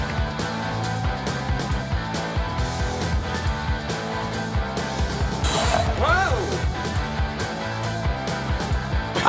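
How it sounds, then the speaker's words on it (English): A small scroll saw cuts out wooden guitar parts, with a fast, steady mechanical rattle and chatter from the reciprocating blade, close and continuous, and a brief higher whine midway. "Then I'm going to go to the scroll saw and cut them out."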